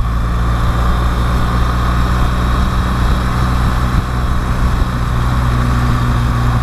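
A BMW R 1250 GS motorcycle engine runs steadily during a lunchtime ride, a loud, continuous low drone with constant wind rush and no speech.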